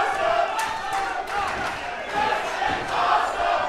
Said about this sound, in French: La foule adore.